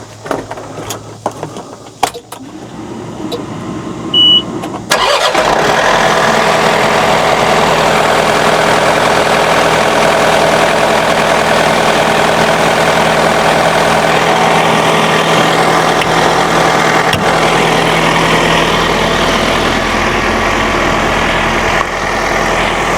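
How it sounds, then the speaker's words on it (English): A tractor engine cranks and starts after a few brief knocks and clicks, then settles into a loud, steady, rumbling idle that continues unbroken for the rest of the clip, with no talk. "Let me go ahead and crank the tractor and raise the board up"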